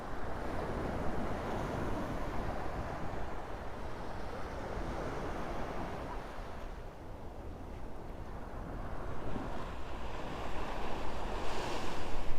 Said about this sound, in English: So I'll be quiet for just a minute so you guys could take in the sounds of the ocean